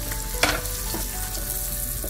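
A piece of salmon laid skin side down in hot oil with curry leaves, giving a steady, fairly quiet sizzle with one brief louder crackle near the start.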